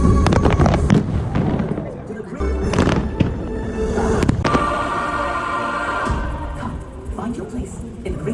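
Epcot fireworks show booming and crackling across the park, a dense run of bursts and pops over crowd noise, with people talking throughout.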